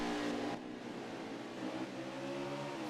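Pack of stock cars racing together in a video game, a dense, steady engine roar from many cars at once, loud and continuous with a slight dip after the first half second.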